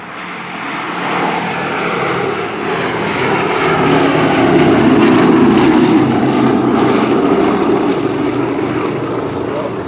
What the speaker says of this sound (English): These are Curtiss-Wright R-1820s, have a little bit different sounds.